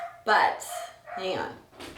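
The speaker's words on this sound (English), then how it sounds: "I am sorry about the barking in the background." Puppies being crate trained bark in the background, two sharp yelps separated by a short pause, while a person speaks nearby.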